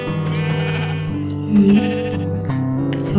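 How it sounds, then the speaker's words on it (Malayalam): A goat bleats in Minecraft Bedrock Edition, a loud, close, wavering nasal cry that rises and falls over a few seconds, with a stronger swell in the middle. "അതിനോടെ ആടുണ്ട്. ആട് നമുക്കത് കൊല്ലാം."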